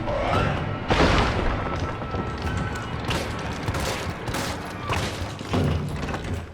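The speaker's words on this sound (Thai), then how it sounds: "พี่ให้ยิงมันอ่ะคุณต้น" Repeated booming gunshots and rapid volleys in the Resident Evil 3 Remake video game, loud and dense throughout, with faint voices now and then.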